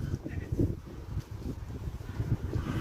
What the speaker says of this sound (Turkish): Çok rüzgar çıktı değil mi?